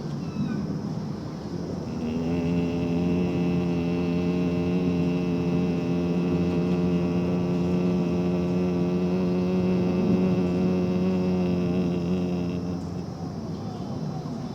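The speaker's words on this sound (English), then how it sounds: "you could look skyward and then the humming sound." A steady nasal hum of Bhramari yoga breathing, one long sustained tone lasting about ten seconds, close and clear, with a soft breath before it and quiet after.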